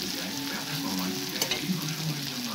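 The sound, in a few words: frying black cumin, dry chilli, onion and garlic tempering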